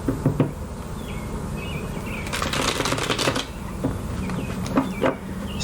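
Tarot cards being shuffled by hand: a few quick riffling bursts and soft papery flicks, close and moderately loud, with brief pauses between them and no talking.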